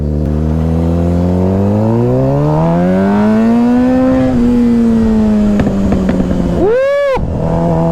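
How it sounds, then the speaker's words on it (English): A Suzuki GSX-R600 sport motorcycle's exhaust roars up through rising revs, holds a loud high drone, then snaps through a quick gear change and pulls away again. "I'm not sure if this motorcycle has a full exhaust or not, but man, it sounds delicious."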